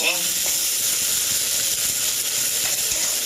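Tomatoes sizzle in a frying pan, a steady dense hiss with faint stirring clicks running unbroken and close throughout.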